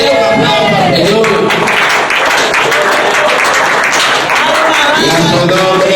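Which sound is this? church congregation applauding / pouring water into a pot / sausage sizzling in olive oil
church congregation applauding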